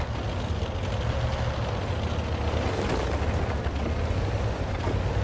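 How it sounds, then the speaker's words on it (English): Artillery round exploding in World of Tanks, heard as a dense, continuous low rumble and roar that holds steady at a loud level for the whole stretch, without separate distinct blasts. "That might have been an Arty round going in."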